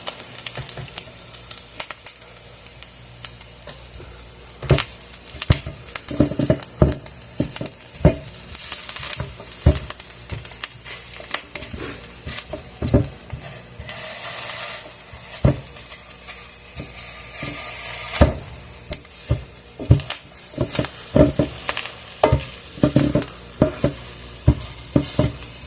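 Onions frying in a pan sizzle throughout, broken by frequent sharp pops and utensil scrapes and knocks as they are stirred, close and fairly loud with no voices.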